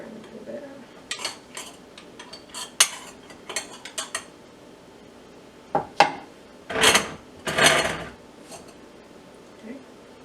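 Pickled eggs being shifted around in brine inside a jar, giving a run of soft clinks, scrapes and rubbing knocks, with two louder, longer sloshing scrapes near the middle, close up and without talk.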